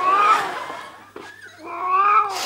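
A cat in a scene from the Turkish sitcom Avrupa Yakası lets out two loud, whiny meows, one drawn-out cry and then another after a brief pause, close and prominent.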